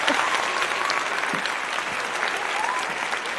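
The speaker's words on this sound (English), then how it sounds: "I was just absorbing all of the fabulous applause that was coming." Steady applause from an audience, continuous and fairly loud throughout, greeting a guest introduced on a business podcast.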